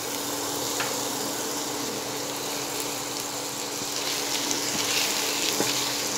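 Ginger and garlic fry in about three tablespoons of hot refined oil, giving a steady, fairly loud broadband sizzle that runs throughout with a few faint clicks and stirs.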